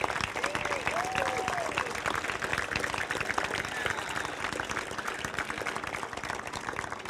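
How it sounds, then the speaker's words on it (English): A crowd gives a standing ovation at a statue unveiling, with dense sustained clapping and applause filling the whole stretch and some voices mixed in. "he deserves a standing ovation and applause from all of us"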